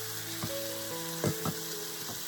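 Chopped garlic browning in a hot pan gives a continuous close sizzle, with a few soft stirring knocks and scrapes against the pan.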